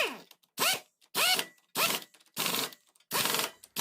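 Clutch plate nuts on a Hero HF Deluxe BS6 motorcycle being tightened with a ratchet wrench, five or six separate bursts of rapid ratcheting clicks with short pauses between, close and clear.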